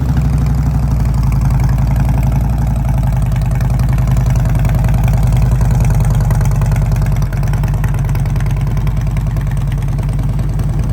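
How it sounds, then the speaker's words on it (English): A Harley-Davidson Road King motorcycle engine runs loud and close, settling into a deep, throbbing idle that holds steady for the whole stretch. "I'm gonna go ahead and start the bike for you"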